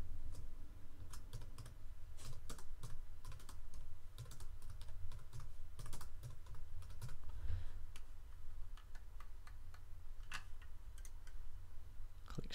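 Steady typing on a computer keyboard, close and fairly quiet, with an even patter of key clicks and occasional louder taps that runs through the whole stretch without talk.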